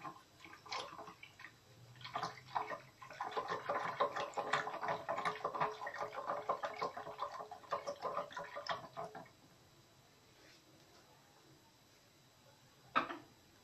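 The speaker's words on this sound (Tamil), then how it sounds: "இதில் ஃபஸ்ட்டு நம்ம தயிரை நல்லா மத்தில் கடைஞ்சிக்கலாம்." Curd is churned by hand with a wooden churner in a pot, a busy sloshing, swishing rhythm for several seconds that then stops, followed by quiet and a single sharp knock.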